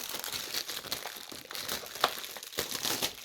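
Plastic shrink wrap being ripped off a DVD box set, a steady crinkling and tearing with sharp crackles and pops scattered throughout, close up and fairly quiet.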